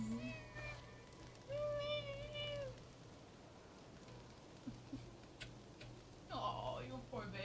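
A house cat meows in drawn-out, rising cries, a couple of them close together early and another near the end, over a low hum while a person talks softly.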